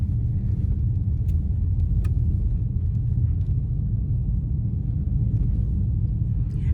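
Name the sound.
car driving through a snowy blizzard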